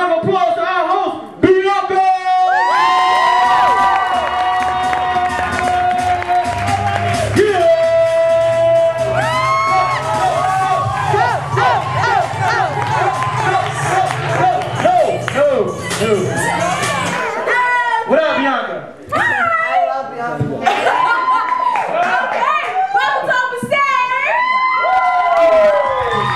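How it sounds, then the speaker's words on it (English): An open-stage audience at the Carriage House claps and cheers loudly and continuously, with whoops and shouts over music and a voice on the microphone. "give a big round of applause"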